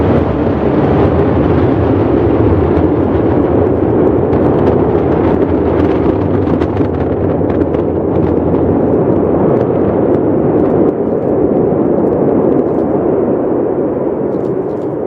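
SpaceX Starship SN-6 rocket engines fire during a hop, a loud, continuous crackling roar that holds steady for the whole stretch with no talk.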